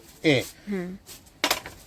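A new stainless steel pressure cooker lid is closed and opened, giving a few distinct metallic clinks and scrapes in quick succession, close by and fairly loud.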